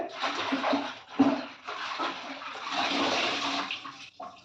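Mixed leafy greens are swished and rinsed in a basin of water, giving close sloshing and splashing bursts that rise and fall over a few seconds.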